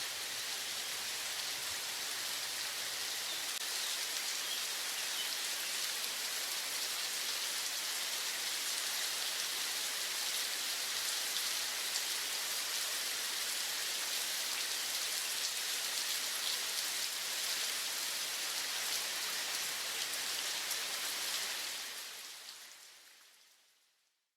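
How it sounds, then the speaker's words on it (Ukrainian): Steady, dense rainfall patters down continuously, a broad even hiss of drops that fades out at the very end. "А дощ іде та не вчухає."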